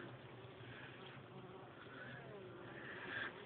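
Honey bees buzz steadily around an open hive while a frame is lifted and inspected, a dense continuous hum close by that swells slightly toward the end, with no talking.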